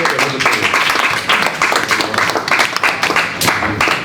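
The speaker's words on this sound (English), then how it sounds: "You need to give him a round of applause." Reporters and attendees at a post-fight boxing press conference give a round of applause, a dense, moderately loud patter of many hands clapping continuously for several seconds.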